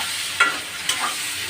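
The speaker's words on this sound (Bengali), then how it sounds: "আমার পেঁয়াজটা ভাজা হয়েছে" Onions frying and being stirred in a pan, a continuous close sizzle broken by two sharp scraping stirs of the spoon against the pan.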